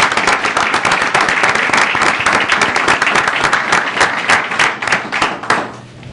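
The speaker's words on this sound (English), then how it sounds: "Let's give them a round of applause for them." A city council meeting audience gives a round of applause, many hands clapping loudly and densely in close, sharp strokes, the sound thinning and fading out near the end.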